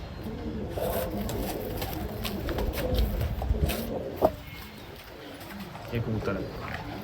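Soft pigeon coos sit under steady conversation in a pigeon fancier's loft in Rawalpindi, with rustling and a single sharp click partway through.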